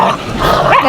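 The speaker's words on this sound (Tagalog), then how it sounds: "Ayan po yung mga aso ko. Sinasalubong na ako." Dogs bark, yip and whimper excitedly up close in greeting, a loud, brief tumble of overlapping calls.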